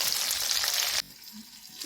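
Green chillies fry in a pan for a green chilli chutney, giving a loud, dense sizzle for about a second before it suddenly drops to a much quieter, faint crackle.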